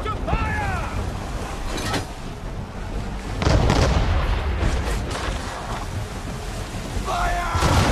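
Cannon fire from sailing warships in an Assassin's Creed 3 naval battle, heavy booming blasts rolling out over a noisy sea-battle din, with shouted voices and bird-like cries on top.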